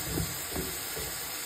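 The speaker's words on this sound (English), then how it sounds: "I'm going to toss that in now as it's sauteing" Chopped garlic, parsley, carrots and celery sauté in a pot with a steady, close hiss of sizzling that holds at an even level throughout the brief moment.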